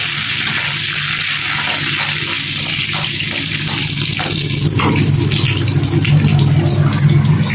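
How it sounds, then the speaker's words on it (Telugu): Loud, steady sizzling of hot oil with rapid popping and crackling of mustard seeds spluttering with curry leaves in a tempering, close up, no voices. "ఆవాలు చిట్టుపట్లాడుకుంటున్నాయి సౌండ్ వస్తుంది కదండి"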